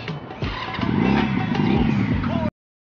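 A motorcycle engine revs up close and loud, its rough clattering note climbing and holding steady for about two seconds before cutting off abruptly.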